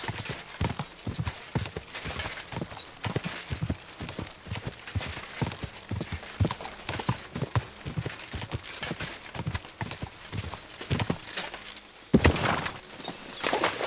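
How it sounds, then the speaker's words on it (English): Hooves of a horse clip-clop steadily in a medieval game, a brisk even rhythm of close, loud footfalls with a short snort or whinny near the end. "It's a really good horse."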